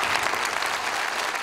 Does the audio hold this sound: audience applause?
yes